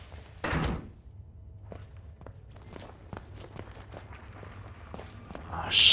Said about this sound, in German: Ich mach mal Tür zu, ne?